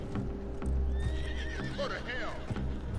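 A horse in the video game Red Dead Redemption II gives a clear whinny mid-clip, with hoof clip-clops and light game ambience around it and a voice talking at times.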